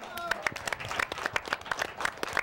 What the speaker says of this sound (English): Another big round of applause for Vic Terno.